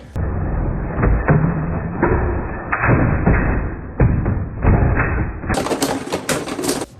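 Beyblade spinning tops are launched into a stadium and clash in a tournament battle, a series of sharp plastic clacks and thuds about once a second against a rattling, scraping background, with a hiss at the end.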